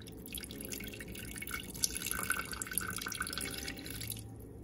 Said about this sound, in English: mix that together, and you're gonna go ahead and just pour it right inside, right on top here.